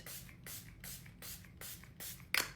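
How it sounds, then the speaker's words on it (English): Milani Make It Last setting spray is misted from a pump bottle in several quick bursts, each a short airy hiss, close and evenly spaced, with a brief sharper rustle near the end. "I think this is the #1 selling setting spray in the US"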